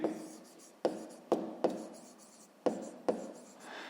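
Pen or chalk strokes tap and scratch out a math solution in short separate bursts, about seven crisp marks with quiet trailing scribbles, close and alone.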